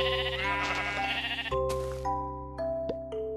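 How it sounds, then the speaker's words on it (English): A second Minecraft sheep bleats as it is hit, a handful of short, clear, synthetic bleats and chime-like game effects, close and loud, alone without speech. "Now I will approach the second sheep,"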